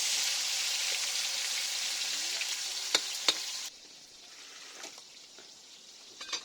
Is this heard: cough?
no